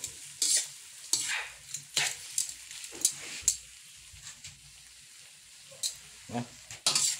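Garlic butter shrimp in a pan with the garlic slightly burnt, stirred in repeated bursts of scraping over a soft sizzle, with quieter gaps between the strokes.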